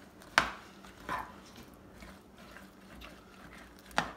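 Stiff fruitcake batter is worked in a bowl, heard as a few sparse, dull knocks and thuds from the spoon with quiet gaps between them.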